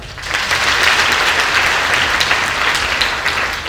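A crowd applauds loudly and steadily, a dense wash of clapping that holds for several seconds without speech.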